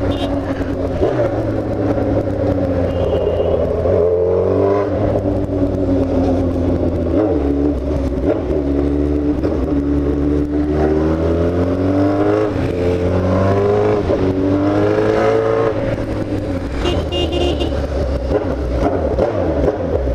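A Suzuki B-King motorcycle engine roars loud and close, revving up and down in long sweeping pitch changes throughout.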